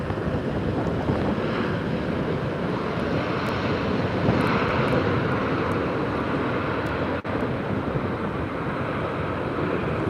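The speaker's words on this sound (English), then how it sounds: "here's our first A330 of the day. This one is from Paris, Charles de Gaulle." An Airbus A330 arriving from Paris Charles de Gaulle lands at MSP, its jet engines a loud, continuous roar heard from a windy spotting spot, with gusts buffeting the microphone underneath and no one talking.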